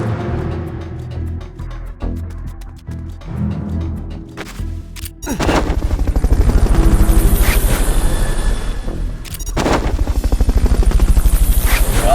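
Helicopter in the Metal Gear Solid Peace Walker video game: after a few seconds of quieter rumbling, a loud, close rotor roar kicks in and throbs steadily, dipping briefly before surging back.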